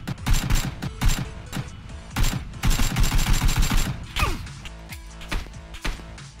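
AK rifle fire in the video game PUBG: several loud, close bursts of rapid automatic shots come in quick succession, with short gaps and lighter scattered shots toward the end.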